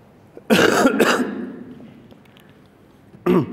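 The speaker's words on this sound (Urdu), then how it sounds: "یہ کھانسی بھی اس وقت مجھے آ رہی ہے" Two harsh coughs in quick succession from a nearby person, followed by a pause and a third short cough.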